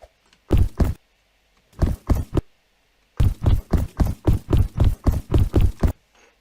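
Custom footstep sound effect in a Roblox game, sharp hollow clip-clop steps heard alone, first in short pairs, then a long steady run of about a dozen evenly paced footfalls.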